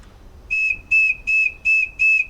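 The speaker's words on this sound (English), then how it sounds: "Here we have an alligator whistle made out of a real alligator's tooth" An alligator whistle carved from a real alligator's tooth, from Louisiana, blows five short, shrill, steady tones in an even rhythm, loud and close with a little breathy hiss, and no voices.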